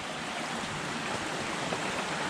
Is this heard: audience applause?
no